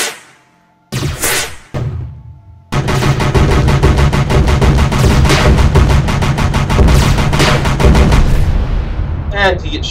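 Aircraft gunfire in the video game UFO: Extraterrestrials comes as loud bursts of rapid shots, a brief pause, then a long sustained barrage of cannon fire that rattles on to the end, with a voice heard over parts of it.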